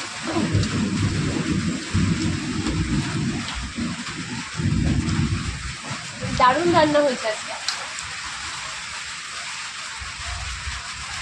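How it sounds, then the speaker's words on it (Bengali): Rain falls steadily outside during a home meal of rice and egg curry, a constant wash of noise with low rumbling bursts, while a person speaks briefly over it. "বাইরে বৃষ্টি"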